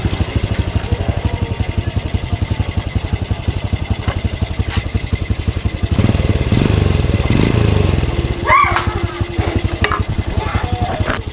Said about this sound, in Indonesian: coba saya nyalakan dulu motornya ya. Mesinnya halus, mesinnya halus.